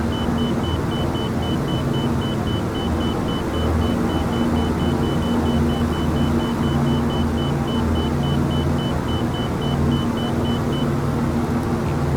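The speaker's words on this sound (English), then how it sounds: "It's the airport marker." A steady high beacon tone pulses in rapid even dashes as a DC-3 passes an airport marker in X-Plane 12. It sits over the constant loud drone of the piston engines in the cockpit and cuts off shortly before the end.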